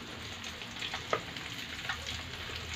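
Sardines frying in hot oil in a pan, a faint, even sizzle with a couple of small sharp crackles, quiet and close, no talking.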